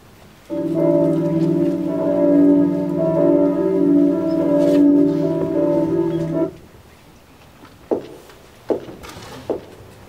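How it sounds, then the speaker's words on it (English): An alarm bell rings in a stage performance of Macbeth, a loud sustained metallic clang with rich overtones for about six seconds, then stops, followed by a few sharp knocks or footsteps. "To countenance this horror, ring the bell!"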